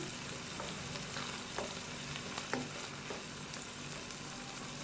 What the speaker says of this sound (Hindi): और साथ ही मैं ये शिमला मिर्च भी ऐड कर रही हूँ। 1 से 2 मिनट के लिए मैं इनको सौते करूंगी।